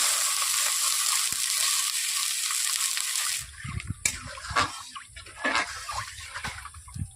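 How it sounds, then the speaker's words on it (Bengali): Water poured into a hot wok after frying potatoes, a loud broadband sizzling hiss that cuts off abruptly and gives way to quieter bubbling and scattered clatter. "এবার আমি কড়াইতে জল দিয়ে দিচ্ছি।"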